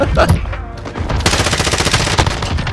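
Rapid-fire AUG rifle shots in a Search and Destroy match of a video game, a fast, even stream of loud, close gunshots that runs through nearly the whole short burst after a brief opening of other game noise.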